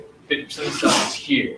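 A single sharp sneeze bursts out over a lecturer's speech, loud and close.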